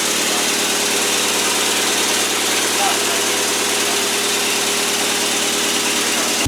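A Mazda project car engine idles through a loud muffler, a steady close rumble that runs unbroken throughout.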